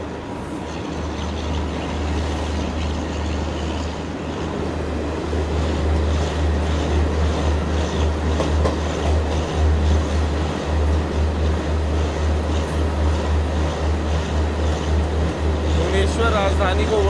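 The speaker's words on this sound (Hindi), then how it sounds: "भुवनेश्वर राजधानी को ओवरटेक करके गरीब रथ आगे निकलते हुए" Garib Rath express train rolling past the Bhubaneswar Rajdhani, a loud steady low rumble with rhythmic clatter building through the middle, heard from on board, with some faint background chatter.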